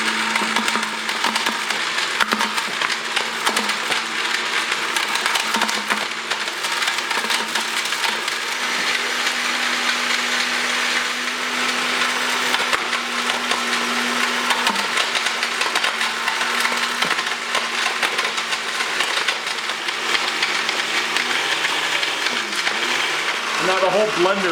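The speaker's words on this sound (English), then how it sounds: "Now the whole blender is shaking." A countertop blender jammed with cork pieces grinds and rattles harshly, the whole unit shaking, with a steady loud whine and clattering scrapes running continuously throughout.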